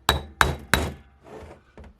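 A hammer strikes tight trans brake solenoid bolts on a TCI Griner Coan 727 transmission: three sharp, loud metallic bangs in quick succession, followed by softer, duller knocks.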